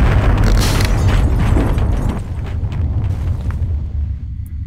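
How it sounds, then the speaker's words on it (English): Heavy bombing in Half-Life: Source fills the scene with loud, sustained explosive rumble and blasts, dense and continuous across the whole stretch, easing slightly partway through. "they are bombing everything"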